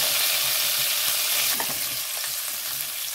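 Cumin seeds, asafoetida, curry leaves and coriander crackling in hot oil for spicy poha, a bright steady sizzle that flares briefly midway then settles, close by with no voices.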